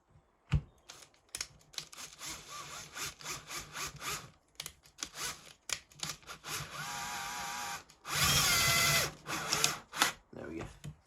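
A screw is driven into the starter housing of a Husqvarna 372XP chainsaw during a starter pulley repair. Close scraping and grinding comes in short bursts, ending with a louder, sustained screwing rasp.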